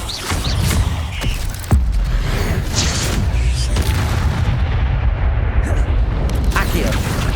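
Incendio fire spells blasting in Hogwarts Legacy, heard as loud, dense booming and crackling bursts with a continuous rumble, close and heavy throughout.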